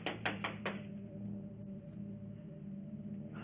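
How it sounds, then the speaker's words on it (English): A hand pounds against a door in a short burst of four heavy knocks, followed by a low steady hum with no further blows. "pounding her hand against the door"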